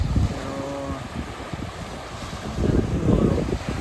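Steady gusty wind roars across the microphone at a seaside fishing spot, buffeting throughout and swelling stronger near the end, with faint water sounds beneath.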